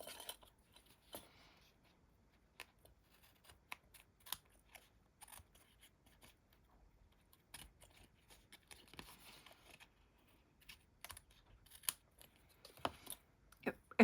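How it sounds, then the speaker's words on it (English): Scissors trimming card scraps in a card-making session, a series of faint, sparse snips and clicks scattered close by, with quiet stretches in between. "I'm going to trim these bits off"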